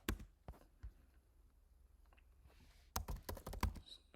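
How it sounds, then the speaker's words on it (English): A command typed on a computer keyboard: a few scattered key clicks, a quiet pause, then a quick close run of crisp tapping with no voices. "We type composer"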